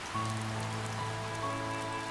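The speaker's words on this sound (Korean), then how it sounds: "그때 갑자기 비가 내리기 시작했어요." Sudden rain begins falling steadily, a dense hiss of drops on a surface with a low sustained tone underneath, continuous and moderately loud.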